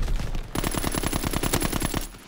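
Submachine gun hip-fire in Call of Duty: WWII, one sustained rapid burst of evenly spaced loud shots lasting about a second and a half, close and without speech.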